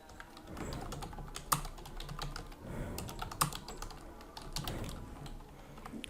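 Steady typing on a computer keyboard while writing in the WordPress editor, with a run of close, quick keystrokes and a few louder key taps standing out.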